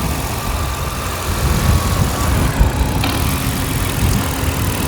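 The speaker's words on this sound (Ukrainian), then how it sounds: "Зараз заведений двигун, працює дуже тихенько." A 2021 Renault Megane E-Tech plug-in hybrid engine idles quietly with a steady low rumble, fairly close and even, with no voices.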